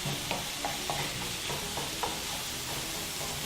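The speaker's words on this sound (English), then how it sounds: "I'm just going to keep using the back of my spoon to break up those lumps of meat" Beef mince for a bolognese sauce fries in a pan while a spoon breaks up the lumps and stirs. A constant dense sizzle runs throughout, with regular soft scraping strokes close by and no talk.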